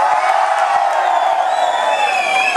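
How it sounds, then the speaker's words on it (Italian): A crowd at a live radio comedy show bursts into a loud, sustained shout and whooping cheer on cue, filling the short stretch with steady collective yelling. "Fate un urlo al mio via."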